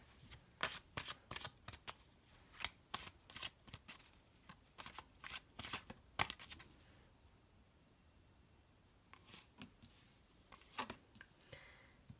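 Tarot cards riffle and snap in repeated quick bursts, a pause in the middle, then a few more shuffles close up with no talking.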